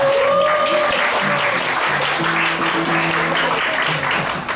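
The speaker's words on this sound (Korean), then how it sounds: "우리 박수로 한 번 더 환영했으면 좋겠습니다" Church congregation clapping to welcome someone back during an afternoon worship service, sustained and fairly loud applause with faint voices and tonal sounds underneath.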